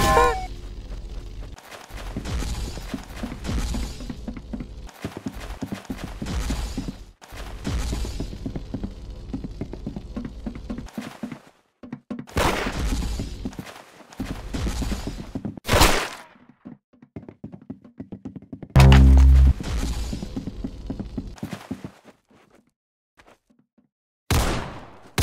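Gunfire from the Roblox game Arsenal comes as loud, sharp bursts and single shots in irregular clusters. Quieter gaps fall between the volleys, and a few heavy thumps stand out.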